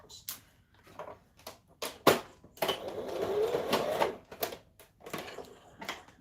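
An overlocker stitching fabric, running in short bursts with one longer steady run in the middle, separated by pauses and small handling clicks.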